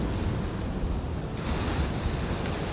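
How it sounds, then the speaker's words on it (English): Atlantic Ocean waves crashing: a steady, dense roar of surf with wind noise buffeting the microphone, loud and continuous with no distinct individual breaks. "This is what it is. Waves crash."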